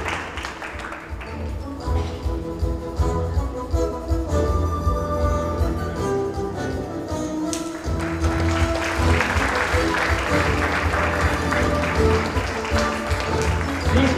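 Crowd applause for a keynote speaker at the Shimadzu Global Pharma Summit 2017, sustained clapping that swells louder partway through, mixed with background music throughout.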